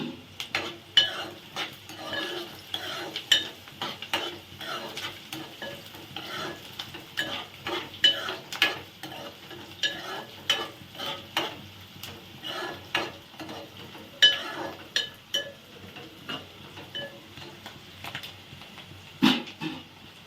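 Taro root (chamagadda) stirred and fried in a pan, with a steady soft sizzle under repeated scraping strokes of a utensil against the pan, close and moderately loud for the whole stretch, with no talk.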